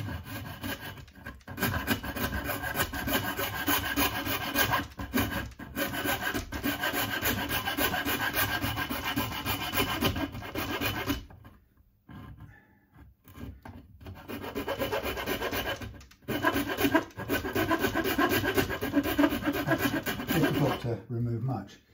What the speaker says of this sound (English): use the small, lighter edge of the rasp